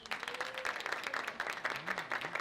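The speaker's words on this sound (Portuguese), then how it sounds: "Uma salva de palmas para elas." Short burst of applause for a group of receptionists, a small audience clapping briskly and evenly, fairly close, with a faint voice murmuring underneath.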